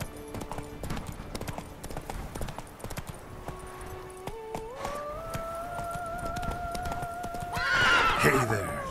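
A horse in The Witcher 3 clip-clops along at a steady pace, then lets out a loud rising whinny near the end, while a voice speaks over the hoofbeats.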